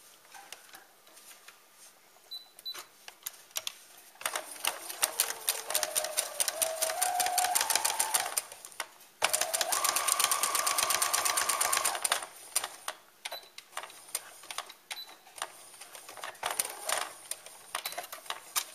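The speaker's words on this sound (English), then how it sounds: "I'm going to go back and do a zigzag stitch" A sewing machine running a zigzag stitch on fabric for a toy lamb, a close rapid mechanical chatter in long bursts with short pauses and rising pitch as it speeds up, then slower intermittent stitching.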